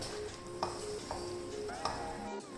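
Cubes of butter being stirred into a pan of butter chicken: soft, low stirring over a faint background hiss, with a few light ticks of a spoon against the pan, close and quiet.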